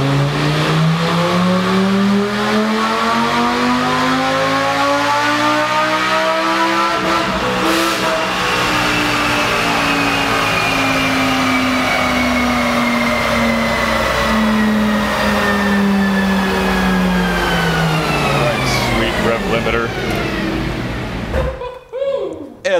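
An exotic car engine revs hard, its pitch climbing and dropping as it shifts through second and third gears, loud and close, ending abruptly.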